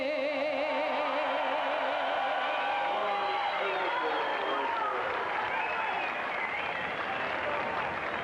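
A large crowd at the 1997 Indianapolis 500 cheers and applauds after an a cappella national anthem, a loud, continuous roar with whistles and shouts throughout, with voices audible within the noise.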